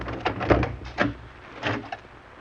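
A door deep in a cellar, reached down stairs and along dark halls, gives a few close knocks and rattling thumps, three main bursts spread over a couple of seconds with no voices.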